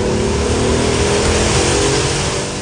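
An Alfa Romeo 156 GTA engine drones loud and steady while the car drives, a constant close-miked roar with a low pulsing rumble and no voices.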